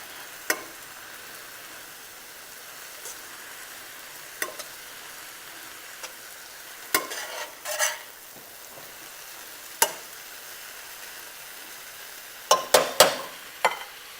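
A gluten-free, low-carb crack slaw with a soy sauce mixture poured into a hot pan: a steady low sizzle broken by sharp clicks and scrapes of stirring utensils against the pan, with clusters of clatter toward the end.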